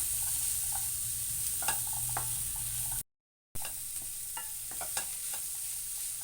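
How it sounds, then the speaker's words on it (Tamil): Mashed potato and vegetables are mixed together for a vegetable bonda batter. Soft scraping and scattered clicks of stirring sit over a constant hiss, broken by a brief silent gap. "இது எல்லாத்தையும் சேர்த்து நம்ம மிக்ஸ் பண்ணிக்கலாம்"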